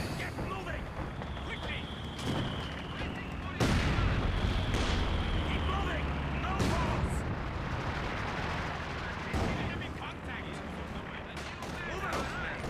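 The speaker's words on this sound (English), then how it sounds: "Oh no, they're strafing me as well." Aircraft strafing runs in Company of Heroes 2 bring dense, rumbling bursts of gunfire and booming impacts over a constant battle din, while a person talks over the action.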